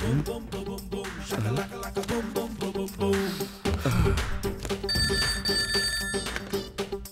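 A telephone rings with a bright, repeated electronic trill in a Hindi-dubbed South Indian film scene, partly masked by loud, busy background music and effects.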